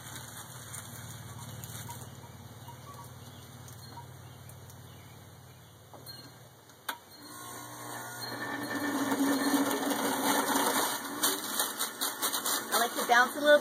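A juicer motor grinds fresh spinach packed in as a tight ball, a steady mechanical whir that drops briefly, then returns louder with rougher churning and crackling as the leaves are forced through.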